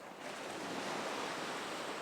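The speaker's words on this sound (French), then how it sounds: "on entend juste les vagues" Sea waves wash steadily onto an empty beach near La Trinité-sur-Mer in Brittany at low tide, a continuous soft broadband roar with no voices, slightly swelling after the start.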